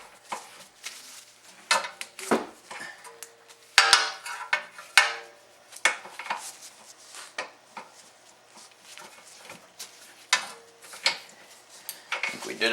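Metal clanks and ratcheting clicks from a breaker bar working a camber bolt loose on a BMW E36 suspension, a series of sharp irregular knocks and scrapes close by, with some louder bursts, and no talking.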